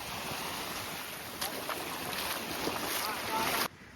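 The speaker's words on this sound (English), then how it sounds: "Heard a noise come down the river and our mates have decided to turn up on the tinny." An aluminium tinny boat motors along a river at Fraser Island (K'gari), giving a steady, loud engine drone mixed with wind buffeting the microphone before the sound cuts off abruptly at the end.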